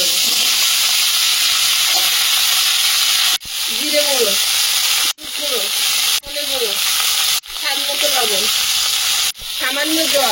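Cumin, chillies and ginger sizzle in hot oil in a wok, a loud continuous frying hiss broken by several brief cuts, with faint stirring and soft voice-like sounds between them.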